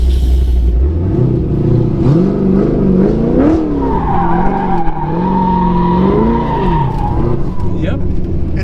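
A Chevrolet Corvette C6 Z06 skids on slippery dirt in a cul-de-sac. Loud wavering tire squeals rise and fall over the engine's drone, close and sustained for several seconds before easing off.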